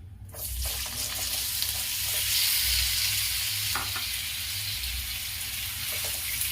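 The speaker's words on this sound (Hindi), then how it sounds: "तेल अच्छी तरह गर्म हो चुका है। मैं इस कटहल को डाल दे रही हूँ।" Raw jackfruit pieces hiss and sizzle steadily in hot oil, a dense, fairly loud frying crackle with a few stirring clinks, no voices.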